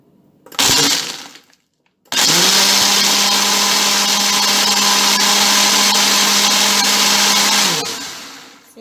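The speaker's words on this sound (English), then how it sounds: "See how powerful this blender is?" A short grinding whir starts and stops, then a blender making an oat protein smoothie roars loudly and steadily for several seconds before winding down.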